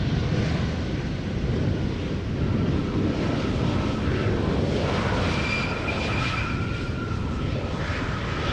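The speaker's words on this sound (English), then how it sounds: "arriving from Glasgow in Scotland, KLM flight 1472, Embraer 190" A KLM Embraer 190 airliner arriving at Schiphol Airport, a steady, broad jet roar with a faint rising whine, continuous and fairly distant throughout.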